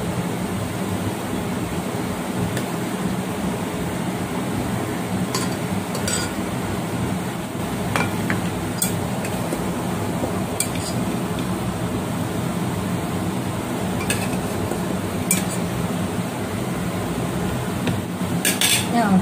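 Chicken going into a pot for chicken biryani and being stirred, with metal clinks and scrapes of a spoon against the pot over a steady background hiss.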